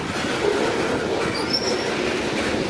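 Freight train with a distributed power locomotive at full throttle, a steady loud rumble of wheels on rail with a brief high wheel squeal, heard close and continuous with no talk.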